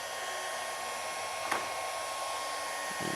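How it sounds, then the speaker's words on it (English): A 24 watt Atezr laser engraver runs with a steady broadband whir and hiss throughout, with a faint brief click near the middle and another near the end, no talk. "And so you can hear the laser machine is making some noise."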